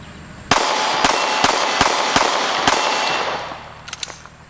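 Diamondback DB9 compact 9mm pistol firing Fiocchi rounds: six sharp, loud reports at an irregular quick pace, each with a short ringing tail, then a few light metallic clicks and handling sounds.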